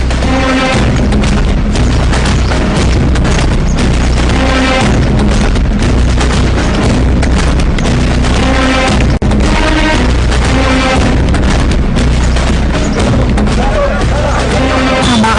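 A bomb detonates in a dramatic scene, giving loud, deep booms and blast-like bursts that repeat through a dense, continuous wash of sound with voices mixed in.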